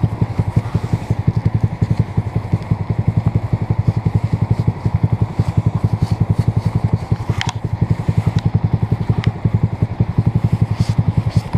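A small Honda Grom motorcycle idles steadily at close range on a chilly, wet ride, its engine putting out an even, rapid pulsing throb, with a few faint clinks and rustles over the top.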